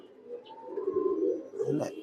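A pigeon from a tournament-flying loft gives a faint, continuous low coo, steady and fairly quiet, with a brief higher sound near the end.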